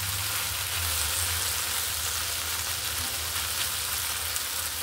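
Vegetable bhaji frying slowly in a pan gives a steady, dense sizzle that holds even and unbroken throughout, close and fairly loud with no talking.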